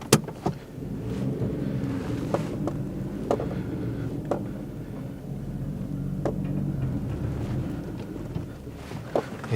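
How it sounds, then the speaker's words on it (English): A Daihatsu car with tired, long-unused brakes and no front end fitted drives along steadily, its engine and road noise forming a continuous rumble with a few sharp knocks and clunks throughout. "I think we'll just go for a quick drive"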